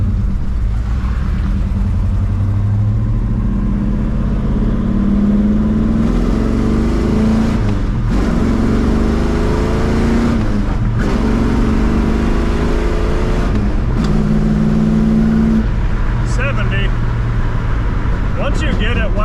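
A 1970 Oldsmobile Cutlass W-31 engine winds up in first gear, a loud, close rumbling roar that rises in repeated revving surges, with voices talking over the engine noise.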